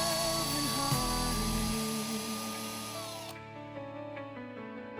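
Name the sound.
drilling a toothbrush handle for a crochet hook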